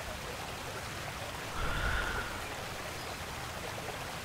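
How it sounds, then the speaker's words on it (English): Steady rain in World of Warcraft, a constant even wash of drops and trickling water throughout, with a brief slightly louder swell in the middle and no voices. "I don't think this rain's gonna let up"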